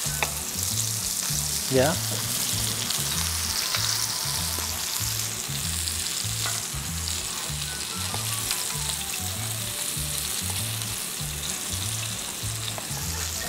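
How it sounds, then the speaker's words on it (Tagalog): Fish fries in a pan for a fish with tomatoes, basil and chili dish, giving a steady loud sizzle with a rhythmic scraping stir throughout and a brief spoken word. "We'll cook the fish 2 minutes on each side. And you want it to be golden brown."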